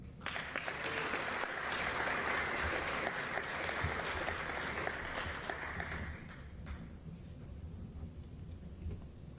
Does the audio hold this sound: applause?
yes